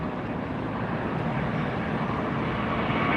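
A JetBlue airliner taking off at LAX, its engines a broad, steady roar that stays loud and unbroken throughout.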